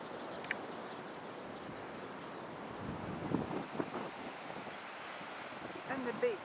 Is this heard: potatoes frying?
no